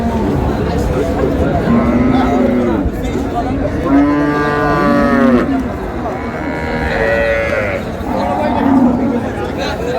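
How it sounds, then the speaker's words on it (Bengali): Cows and calves at a rural livestock market moo repeatedly, several long lowing calls close by over a continuous crowd murmur and the chatter of people talking. "এখানে একটি সেরা মানের গাভী বাছুর দেখাশোনা চলছে"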